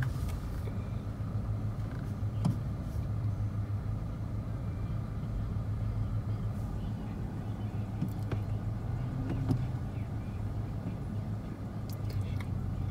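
Steady low rumble of a car engine idling and creeping forward in a slow drive-through line, continuous and close throughout with no talking.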